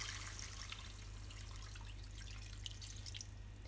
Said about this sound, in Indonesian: Setelah diungkep, tambahkan air lagi.